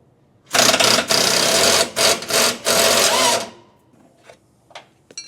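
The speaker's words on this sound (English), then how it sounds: "someone's going to hit it with the impact from above" An impact wrench hammers at a body mount bolt on a 1980-96 Ford Bronco, a loud, close burst of about three seconds broken by quick stutters, then fading to faint clicks.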